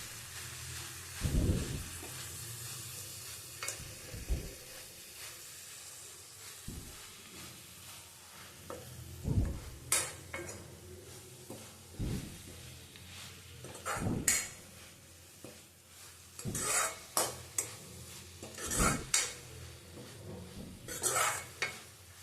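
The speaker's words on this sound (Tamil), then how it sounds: "வெங்காயம் தக்காளி கூட நல்லா வதக்குங்க." Onion and tomato sautéing in oil for a drumstick-leaf greens dal, with a low sizzle beneath repeated spoon scrapes and clanks against the pot, irregular and close, no voices.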